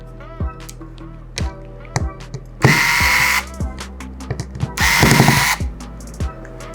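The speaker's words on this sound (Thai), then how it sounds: "อันนี้ก็คือถอดน็อตทั้งช่วงบนแล้วก็ช่วงล่างนะคะ" A small power screwdriver removes the screws from a Samsung A02s phone during a screen replacement, running in two loud whirring bursts between light clicks and taps, with someone speaking over the work.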